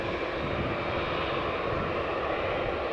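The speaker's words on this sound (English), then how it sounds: "Got a 787-10 Dreamliner to San Francisco coming this way." Boeing 787-10 Dreamliner bound for San Francisco taxiing past at Amsterdam Schiphol Airport, a steady broad jet-engine roar, loud and constant throughout.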